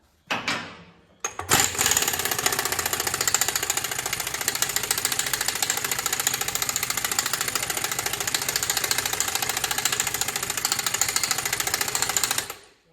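A half-inch impact wrench spins wheel nuts off a Ford 8100 tractor in a loud, sustained mechanical hammering rattle lasting about eleven seconds after a brief first burst.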